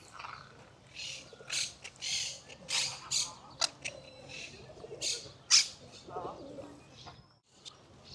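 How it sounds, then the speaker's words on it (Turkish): Green parrots squawk in a Barcelona city setting, a run of sharp, bright calls repeating in bursts every second or so at moderate distance over faint background murmur. "Yeşil elma yiyen yeşil papağanlar."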